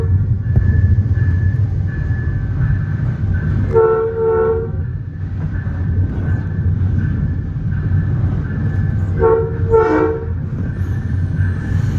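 A VRE commuter train, number 312 running from Spotsylvania to Washington DC, sounds its horn in two short multi-tone blasts over a loud, steady rumble of rolling railcars.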